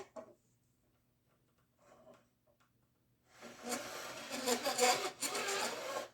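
Metal file working the fret ends on a Starcaster electric guitar: a few faint scrapes early, then a louder sustained run of rasping strokes in the second half.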